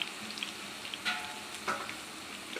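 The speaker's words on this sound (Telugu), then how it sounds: "మంచిగా ఇలా ఫ్రై చేసేసుకోవాలి." Chopped vegetables for veg Manchurian frying in a pan, a soft continuous sizzle with a couple of brief stirring scrapes, close and fairly quiet, no talking.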